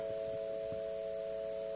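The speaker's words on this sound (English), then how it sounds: "that's the overall signal after you add these three sine waves" Three sine waves added together to form a major triad, a steady, smooth electronic chord held at even loudness throughout, with faint low thumps underneath.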